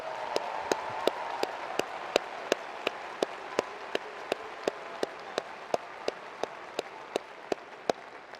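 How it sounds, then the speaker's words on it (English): A commencement audience applauds doctoral graduates, heard as faint, sparse claps with a sharp, evenly spaced clap cutting through the quiet room like a slow beat. "Will you all please join me in extending another round of applause for our doctoral graduates?"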